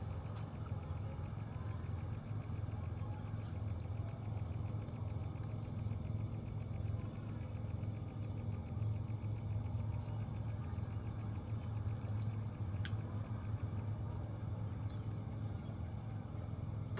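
Boat engines idling at a boat terminal on Cirata Reservoir, Cianjur, Indonesia: a low, steady drone nearby, a constant rumbling hum with a faint high whine over it and no talking.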